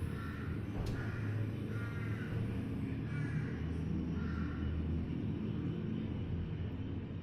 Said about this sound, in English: There's crows.